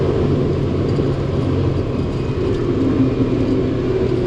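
A Proton Satria GTI engine held steady in fourth gear near 6,000 RPM, a loud continuous rumble and whir with no let-up, up close and without talk.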